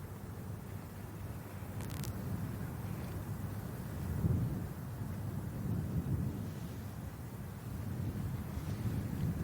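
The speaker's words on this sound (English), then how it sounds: "You can just hear that, and the microphones out on the course, the wind beginning to buff it around a little bit" Wind buffeting outdoor microphones on a golf course during the Scottish Championship, a continuous low rumbling roar that swells and eases in gusts, fairly faint and unbroken with no voices.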